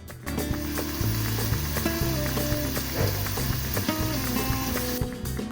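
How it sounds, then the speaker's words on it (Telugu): Chopped onions frying in hot oil in a kadai, a steady loud sizzle throughout with close crackling and spattering, heard on its own without talk. "ఆయిల్ కొంచెం వేడెక్కినాక ఆనియన్స్ వేయండి."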